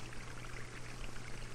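Water pours steadily into still water, a continuous splashing rush at moderate level over a low steady hum, with no talking.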